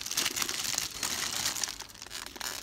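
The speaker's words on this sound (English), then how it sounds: "let's take the plastic out so you guys can see inside" Plastic packaging on a Cuisinart Mini Prep Plus food processor crinkles and rustles up close as it is pulled off during unboxing, in continuous crackly bursts.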